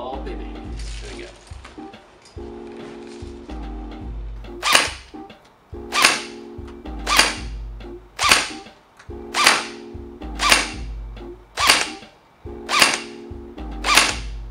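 An Elite Force M4 CQB airsoft rifle in tan fires 0.20 gram BBs during a chronograph test. About nine sharp, loud, evenly spaced shots ring out roughly a second apart after a brief stretch of low hum and faint voice.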